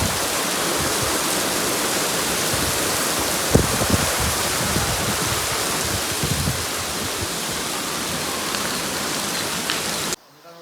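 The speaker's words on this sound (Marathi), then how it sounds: "पाऊस आला खूप जोरात" Heavy rain pours down in a steady, loud, dense roar that holds evenly for about ten seconds before cutting off abruptly.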